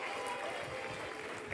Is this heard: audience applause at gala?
yes